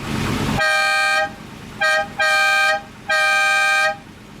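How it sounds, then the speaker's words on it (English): A 1980s Lamborghini Jalpa's musical-note horn sounds in three tuned, chord-like blasts: a long opening toot, a quick short tap, then two more long held notes, loud and close with no talking. "Ah, the nice musical note horn, singing you a song instead of telling you to get out of the way."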